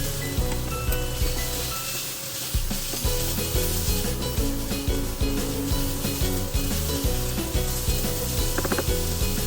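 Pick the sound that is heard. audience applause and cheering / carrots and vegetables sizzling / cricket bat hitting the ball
carrots and vegetables sizzling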